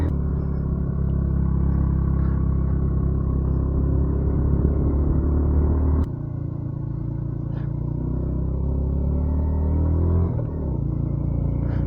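A motorcycle on a group ride along the Penukonda road keeps up a steady, loud engine rumble with wind noise, with a brief dip midway and a light revving swell near the end, and no voices.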